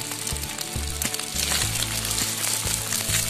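Fried noodles with meatballs and sausages sizzle steadily in a hot pan, with irregular scraping and clanking as the mixture is stirred throughout, close and fairly loud.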